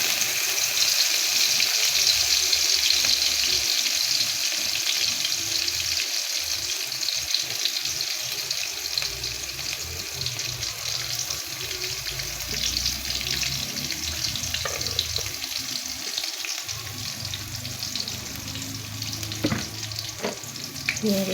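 Dried fish (shutki) fries in a kadai with a broad, continuous sizzle and hiss, fairly quiet and steady, with a few faint stirring knocks later on.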